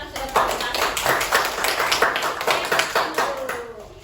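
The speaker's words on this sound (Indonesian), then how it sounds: "Kita berikan tepuk tangan untuk kelompok 1 sudah presentasi." A classroom of students applauds after a group presentation, with a steady burst of many hands clapping close by for about four seconds, loud and continuous without talk.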